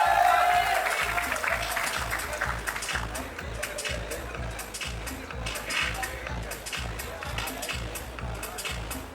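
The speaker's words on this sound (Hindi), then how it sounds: "सीटियां भी बजाइए, तालियां भी बजाइए" Audience at a cricket league press meet claps in a loose, rhythmic patter, loudest at first and then settling into steady mid-level clapping, with a brief whistle-like tone early on and talk mixed in.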